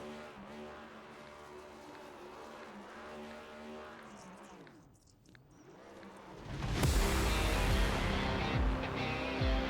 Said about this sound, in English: Is he going to do a burnout?